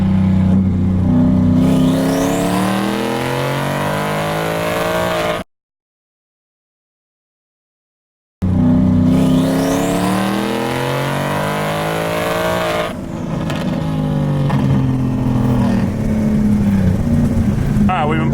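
A single-turbo 2018 Ford Mustang GT engine revs hard on a pull, loud and close, its pitch climbing in two long bursts separated by a few seconds of silence.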